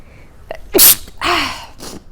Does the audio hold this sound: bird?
no